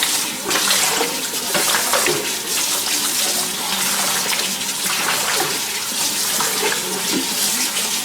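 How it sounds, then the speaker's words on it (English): Pork skins are rinsed under a steadily running tap, a continuous loud splashing gush of water that keeps an even level throughout, with no talking over it. "Wash off all the little fat that was on it."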